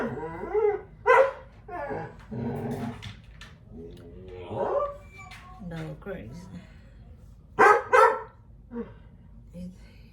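A puppy barks and whimpers in short bursts indoors, mixed with someone talking over and between the yaps.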